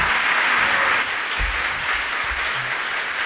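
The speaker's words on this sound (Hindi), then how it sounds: "तालियां अच्छे से बजाइए ना आप लोग" Audience members at a Jain monk's question-and-answer discourse applaud, a full, steady wash of clapping from a large crowd that continues throughout at strong volume, with a few low thumps underneath.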